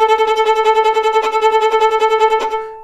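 A violin played with the sautillé bow stroke: rapid, evenly spaced bouncing notes in a quick steady pulse, loud and close, ending with a short fading ring.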